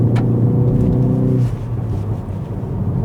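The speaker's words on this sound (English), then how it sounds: "I just love the noises coming out of the exhaust." A 2025 Ford Focus ST hot hatch gives a loud, low rumbling rev from its engine and exhaust, then eases off to a softer, steady drone partway through.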